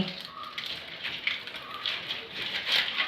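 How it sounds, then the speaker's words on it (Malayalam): Dried coconut palm leaves catch fire in a cooking stove, giving a faint, steady crackle and hiss with scattered sharper pops throughout. "ഇന്ന് അമ്മയ്ക്ക് എവിടുന്നോ രണ്ടു മൂന്ന് ഓലയൊക്കെ കിട്ടി ഞാൻ അതിനകത്തൊക്കെ കുറച്ച് അടിച്ചു മാറ്റി കേട്ടോ മാറ്റി നമ്മൾ തീ കത്തിക്കുവാണേ"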